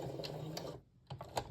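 Short bursts of a sewing machine stitching a zipper bag, a quick mechanical whirr broken by a brief pause before another run of stitches, close and fairly quiet with no talk.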